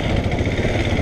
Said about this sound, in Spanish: es la primera vez que vengo en moto a encontrarme con Gustavo